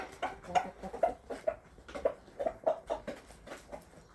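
Chickens cluck softly in a series of short, irregular calls, fairly close, with a few birds overlapping and no talking.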